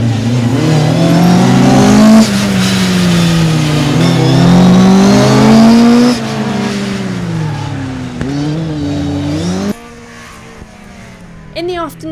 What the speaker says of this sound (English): we can see the old school cars pushing on hard to show the newer boys how it's done